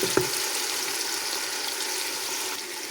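Onions and garlic fry in a pan, a steady, even sizzle holding at moderate level throughout, with a brief clink near the start.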